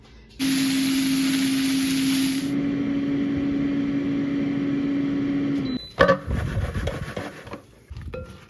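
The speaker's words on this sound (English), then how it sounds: "These tofu's in the air fryer. And crispy. And go the highest, 22 minutes." An air fryer cooking tofu at its highest setting runs with a steady, loud whirring hum and a constant tone. Near the end the hum cuts off and a burst of clattering handling noise follows.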